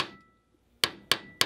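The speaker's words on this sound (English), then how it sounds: "I'm just gonna hammer the end flat, and I'm gonna kind of roll it" Three sharp metal hammer blows flattening the end of a metal dart for a PVC blow gun, evenly spaced and close, after a quiet pause.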